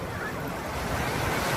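Ocean waves roll and wash steadily onto the shore at a beach resort, a continuous broad surf roar with some wind noise across the microphone, no voices.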